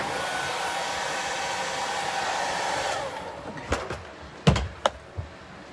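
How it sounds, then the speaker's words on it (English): A hair dryer blows steadily at close range on a wig for about three seconds, then cuts off, leaving quiet room noise with a few scattered clicks and knocks. "Am I supposed to blow dry right now? We're gonna blow dry."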